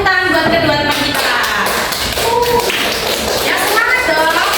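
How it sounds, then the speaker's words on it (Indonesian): A classroom of students applauds two classmates with dense, steady clapping that fills the whole stretch, while children's voices talk and shout over the applause. "Kasih tepuk tangan buat kedua teman kita."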